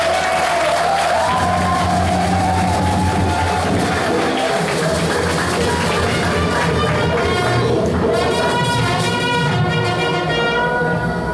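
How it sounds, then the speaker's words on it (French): A convention hall crowd at a national council of socialist youth applauds loudly, thick clapping mixed with cheers, whoops and shouts, close and continuous for the whole stretch. "commencez à applaudir pour vous-même"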